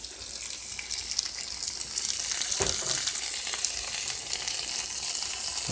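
Scarlet elf cup mushrooms, broken into pieces, fry in a pan with a constant close sizzle and a faint stir or clatter partway through, growing slightly louder, with no voices.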